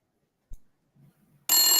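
Telephone ringing sound effect: after near silence and a few soft knocks, a loud bright ring starts abruptly in the final moments.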